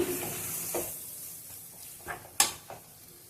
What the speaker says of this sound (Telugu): చూడండి, ఇలా బాగా అయితే కలుపుకోవాలి.